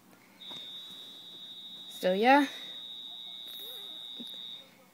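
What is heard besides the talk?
fire alarm sounding during a building alarm test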